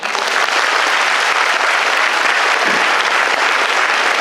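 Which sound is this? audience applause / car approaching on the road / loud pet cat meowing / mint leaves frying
audience applause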